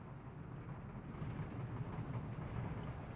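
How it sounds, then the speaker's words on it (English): A train rolls steadily through a city-building game, a low continuous rumble with faint clatter, moderately quiet and without voices. "This train is trying to build a train line"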